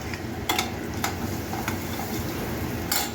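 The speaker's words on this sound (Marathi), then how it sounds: "हे मसाले यामध्ये घालून घेऊया." Spices stirred into cauliflower curry frying in a pan, giving a soft steady sizzle with a few brief utensil clicks and scrapes against the pan, close and fairly quiet with no voices.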